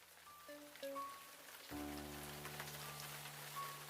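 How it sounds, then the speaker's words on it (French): Fine rain falls with a soft, steady hiss of drops throughout, under sustained musical tones that come in partway through. "Une pluie fine se mit à tomber."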